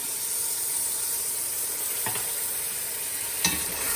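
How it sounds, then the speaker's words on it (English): Coconut milk is poured into curry paste in a hot pan for Lao coconut milk noodles, producing a continuous close sizzle and hiss with two distinct scraping stirs. "Now we're going to add half of a can of coconut milk."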